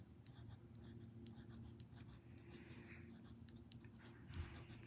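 A pencil drawing on a paper tile, making a faint, steady scratching that continues throughout with no talking.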